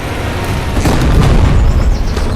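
A bazooka round explodes in the Call to Arms Panzer Elite war game, a loud deep boom with a rolling burst that carries over a couple of seconds.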